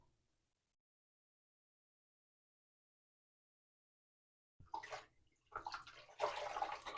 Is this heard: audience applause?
no